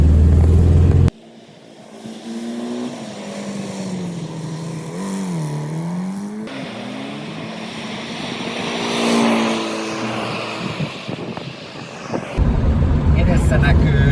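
A car drives along a road toward Sotkamo, Finland, its engine humming steadily with rising and falling pitch as a voice talks over it throughout.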